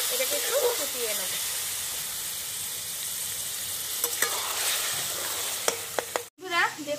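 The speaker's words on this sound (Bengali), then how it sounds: "সামান্য একটু জল দিয়ে এটাকে একটু ফুটিয়ে নেব" Chhana curry with a little water bubbles and hisses in a pan, a steady close sizzle with a few clicks of stirring near the end.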